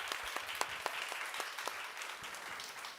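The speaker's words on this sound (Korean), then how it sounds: "우리 선교사님에게 축복의 박수, 감사의 박수를 드리기 원합니다." A church congregation applauds missionaries, a soft, dense patter of many hands clapping together at a distance, steady throughout with a few sharper individual claps standing out.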